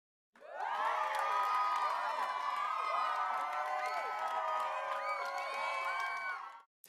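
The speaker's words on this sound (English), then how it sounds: "Let's give our flannelgraphers a big round of applause." Crowd of children cheering, whooping and shouting for the flannelgraph storytellers, a loud dense burst of overlapping high voices with some clapping, starting abruptly and stopping sharply after several seconds.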